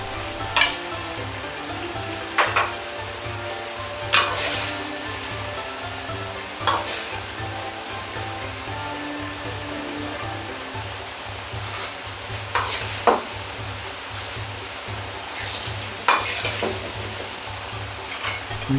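Boiled shrimp sizzle and fry steadily in a pan, with occasional sharp scrapes and clanks of a utensil stirring, no voices.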